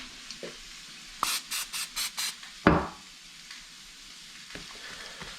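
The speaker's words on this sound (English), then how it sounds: "I'll spray a little olive oil on it." Five short, even bursts of olive oil spray hiss from a can in quick succession, followed by a brief sizzle and quieter kitchen noise.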